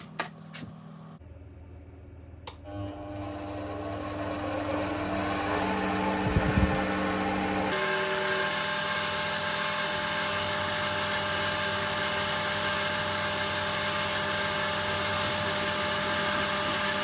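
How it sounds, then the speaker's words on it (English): An Amadeal CJ18A 7x14 mini lathe runs steadily with a center drill in the chuck, a constant motor whine and hum that starts after a few brief clicks and carries on evenly to the end. "So let's get this set up with a center drill."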